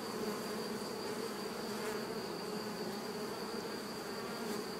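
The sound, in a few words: honeybees buzzing in beehive frame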